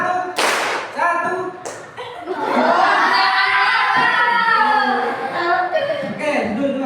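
Classroom students clap in unison on a teacher's command, a few sharp group claps mixed with children's shouting and chatter from a lively room.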